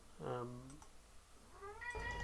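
A domestic cat meows twice, a short cry followed by a longer drawn-out one, close and fairly clear, with light clicking in the background.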